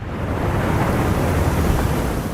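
Heavy water waves slosh and surge in a man-made ditch in the VR game Paper Beast, a steady, loud, rushing wash with no voices.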